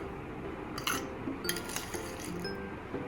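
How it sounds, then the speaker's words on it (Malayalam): Ice cubes dropped into a glass for passion fruit lemonade, a few bright clinks in two short clusters, close but fairly quiet over a low background hum. "ഐസ് ക്യൂബ് വീണ്ടും ഈ ഗ്ലാസ്സിലേക്ക് ഫില്ല് ചെയ്യുക"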